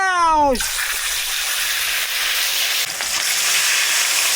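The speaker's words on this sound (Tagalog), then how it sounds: "simulan na po ang ating prito" Food frying in hot oil: a loud, steady sizzle and hiss that starts right after a short shouted voice and continues throughout.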